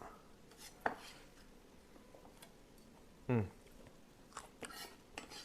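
Two sharp knife strokes chop several items at once on a cutting board while making a couscous dish, the first a crisp tick and the second a louder, longer thunk, with small kitchen clicks in between.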